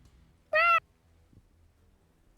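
A voice imitating a bird gives one short, nasal, squawking call during a tabletop role-playing game, sharp and fairly loud against a quiet room, with faint background rustles and no talk.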